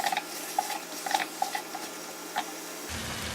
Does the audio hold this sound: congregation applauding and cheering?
no